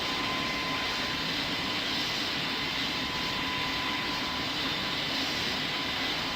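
Jet airliner taking off in Pilot Training Flight Simulator, a loud, steady broadband engine roar with a thin whine held constant throughout, no voices.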